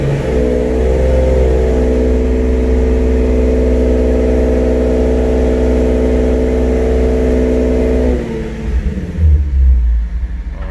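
A car engine on a dyno rolls out a steady, loud, sustained rev with strong low harmonics for about eight seconds, then drops off abruptly into rumbling idle as the throttle is released.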